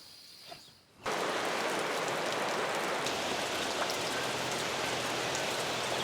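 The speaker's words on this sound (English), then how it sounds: "it's been raining cats and dogs and the weather here has been really unpredictable" Heavy rain pours down on an off-road trail, starting abruptly after a quiet second and then holding as a loud, steady, dense hiss through the rest of the clip.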